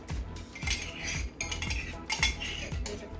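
Jamaican curry shrimp being stirred in a pot, a metal spoon scraping and clinking against the pot in repeated rhythmic strokes, close and clear with no talking.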